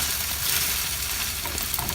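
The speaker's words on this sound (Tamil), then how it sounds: "இது பொரிஞ்ச பிறகு நாங்கள் மற்ற சைட் திருப்பி போடுவோம். இப்போ நான் இதை திருப்பி போட போகிறேன்." Bread omelette frying in a pan, a steady close sizzle with small scraping touches as it is turned over.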